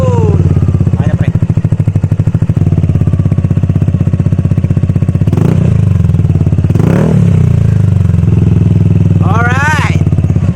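Yamaha NMAX V2 scooter with a full-system Akrapovic M1 exhaust and no silencer, idling with a steady loud throb and a few rev bursts, heard up close while people talk nearby.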